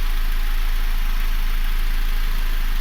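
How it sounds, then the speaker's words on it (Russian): Idling 2008 Honda Accord with an R20A3 engine and a valve knock, a steady continuous engine hum close by with no talk; the knocking itself is not clearly picked out. "Приехал с проблемой, стучит клапан."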